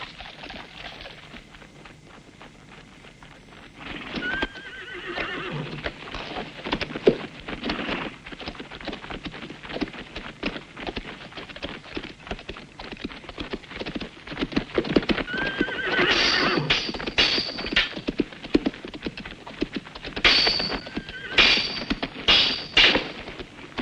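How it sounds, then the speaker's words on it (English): Several horses neigh and whinny loudly while hooves clip-clop and thud in an irregular rhythm, growing busier and closer toward the end, with no one speaking. "I'm untying the horses so Turno's men can't follow us."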